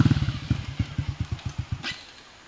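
A motorcycle engine with a troublesome carburetor, close and loud, stutters through a rapid run of uneven thumping pulses before dying away near the end.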